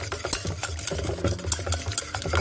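An electric mixer whirs through brownie batter of beaten egg in a bowl, a steady close motor hum with rhythmic scraping and beater clatter, no talk.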